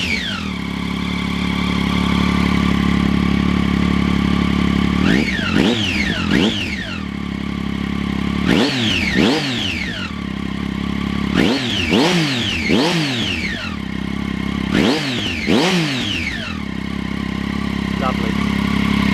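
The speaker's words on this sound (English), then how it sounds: "that's what a Triumph Street Triple 675 with Arrow exhaust sounds like" Triumph Street Triple 675 motorcycle with Arrow exhaust, warmed up and idling loudly, blipped through several sharp throttle revs that rise and fall back to a steady idle, repeated about five times close up.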